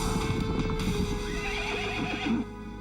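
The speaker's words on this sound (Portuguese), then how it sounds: "Senhor, os soldados estão nos perseguindo a cavalo." Horses gallop in pursuit with soldiers riding, their hooves clip-clopping loudly and continuously while a horse neighs over the pounding.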